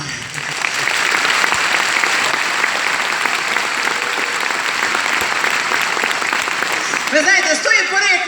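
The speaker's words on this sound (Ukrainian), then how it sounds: "вони чують оплески" Loud sustained applause from a large audience at a circus venue in Lviv, a dense wash of clapping for about seven seconds with a burst of cheering or voices near the end.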